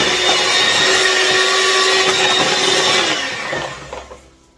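An electric mixer whirs loudly and steadily through chocolate cake batter, close up, its pitch dropping slightly before it winds down and cuts off near the end.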